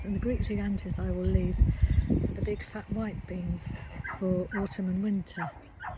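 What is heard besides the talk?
young dog barking and whimpering next door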